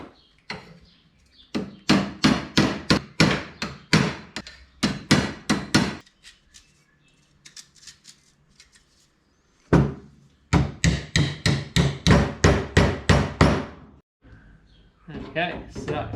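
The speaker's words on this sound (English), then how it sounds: "Not too snug, I might just hammer it a bit." Window rubber seal on a 1951 Chevy being hammered: rapid bursts of sharp, close, loud blows in rhythmic runs, separated by quieter pauses with faint handling noises.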